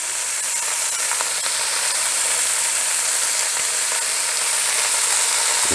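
Meat browns in a hot pan as the first step of a braise, giving a dense, steady sizzle. It stays close and even throughout, with no voices over it.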